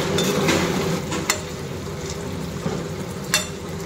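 Goat meat sizzles and fries in a wok, a steady crackle with a few sharp scrapes and stirring knocks, close and fairly loud, no voices.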